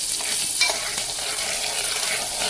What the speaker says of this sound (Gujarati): ઓહો તેલ ઉડવા માંડ્યું ગાઈસ